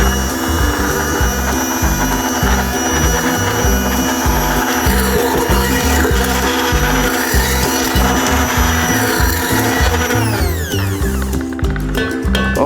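A hand blender whirs through cooked mixed dal in a pot, a loud, close motor drone with a rapid chopping rhythm as the blade churns, shifting in pitch near the end, no voices.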